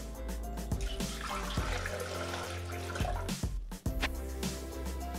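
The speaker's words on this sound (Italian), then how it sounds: "Iniziamo mettendo all'interno del boccale l'acqua." Water poured into a Thermomix mixing bowl makes a steady, fairly faint splashing and gurgling stream with a few small knocks, with no voices.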